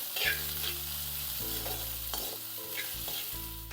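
Peas and winter vegetables for pearl millet khichdi are sautéed in a pan over medium heat: a constant crackling sizzle with occasional stirring scrapes and a low steady hum beneath, no talking.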